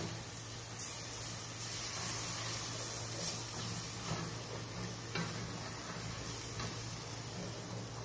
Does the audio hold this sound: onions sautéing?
yes